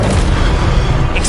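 A burst of spell-casting from the Expelliarmus disarming spell in the Hogwarts Legacy video game, a dense, loud boom-like rush that fills the short moment with no break and no voices.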